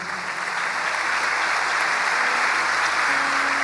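Church congregation clapping in a brief, dense burst of steady applause at moderate loudness, with no talk over it.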